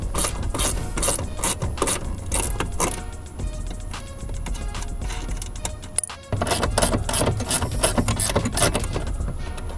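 A ratchet with an 8 mm socket loosens a bolt on a Ford F150 during a running board install, giving rapid, close clicking in fast bursts with a short pause midway.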